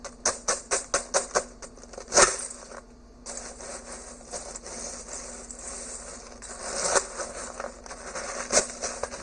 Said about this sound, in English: I'm just going to get a rough chop on it real quick